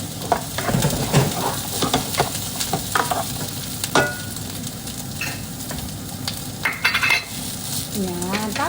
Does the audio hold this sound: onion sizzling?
yes